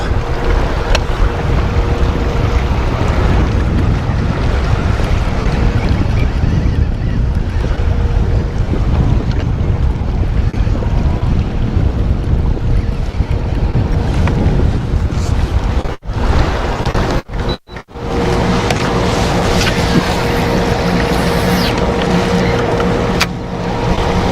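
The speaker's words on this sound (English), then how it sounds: "Current's making this trolling motor go crazy over here." Fishing boat on a river in strong current, with a continuous broadband rumble of the trolling motor mixed with wind buffeting the microphone, loud and steady, with a few sharp handling knocks near the end.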